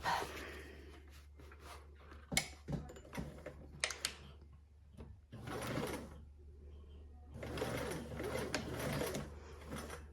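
Sewing machine stitching a seam, heard in a couple of short quiet runs between handling clicks, fabric rustling and breathy sounds, all fairly soft and close.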